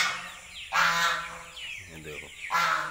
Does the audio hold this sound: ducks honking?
yes